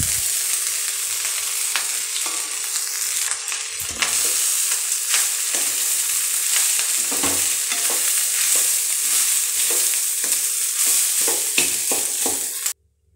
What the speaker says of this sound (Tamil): இந்த சமயத்தில் இந்த வேக வச்ச கம்பு முருங்கைக்கீரை எடுத்து உள்ளே கொட்டிடலாம்.